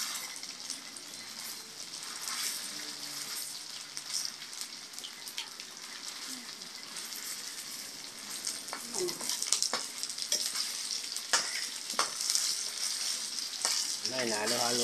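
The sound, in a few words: stirring pork skin frying in a pan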